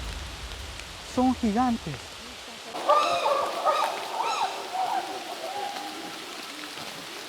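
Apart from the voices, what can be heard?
heavy rain in the African jungle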